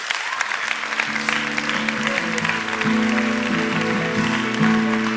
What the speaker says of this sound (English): please give a big round of applause to Ben Greenfield